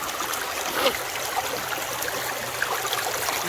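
Steady broadband rush of a creek flowing outdoors, a gentle continuous trickle and babble with small splashy accents, fairly close and even in level throughout.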